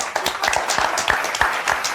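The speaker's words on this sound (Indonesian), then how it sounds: "Ya, tepuk tangan sik." A small group claps close by in quick, uneven rhythm, with individual hand claps distinct within a brief burst of applause.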